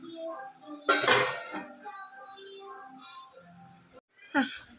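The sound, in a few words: stirring chicken curry in a cooking pot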